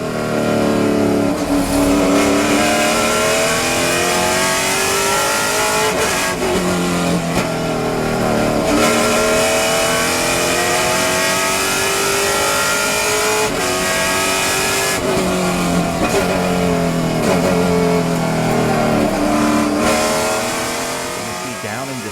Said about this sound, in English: I want you to hear the engine noise of the drivers going through the gears